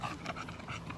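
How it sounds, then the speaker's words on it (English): A dog out on a stroll gives quick panting breaths with a faint whimper, close and moderately loud in a brief burst with no talking. "a dog almost peed on Trump, but did not do it"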